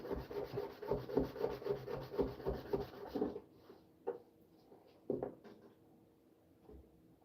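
Rough-grit abrasive is rubbed steadily back and forth over a surface in a rhythmic scratchy sanding, close and moderately loud for about three seconds, then a few scattered scrapes and knocks, with no talking.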